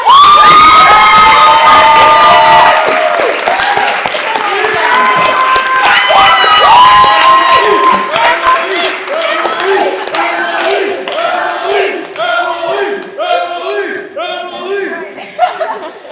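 A live show audience cheers, whoops and claps loudly for a performer named Emily, with excited shouts and laughter rising together in a dense, close crowd roar that slowly thins toward scattered claps.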